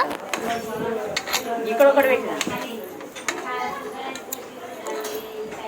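A spoon scrapes and clinks against a pot while goat head curry is stirred, Telangana style, with irregular metallic taps and knocks under continuous talking.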